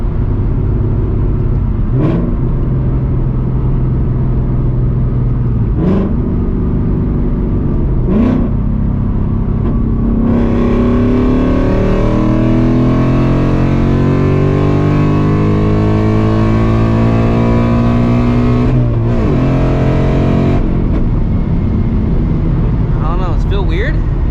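A 500 hp Ford Mustang GT engine rumbles, then revs and pulls hard through rising gears for several seconds before easing off, loud and close from inside the car, with brief voices at the start.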